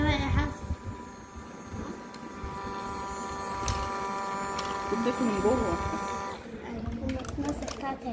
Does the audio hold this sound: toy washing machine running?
yes